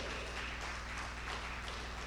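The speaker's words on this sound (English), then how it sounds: "A round of applause for him." Dense, steady applause from a conference audience welcoming an architect to the stage at a national forest economy summit, a continuous wash of many hands clapping with no talk above it.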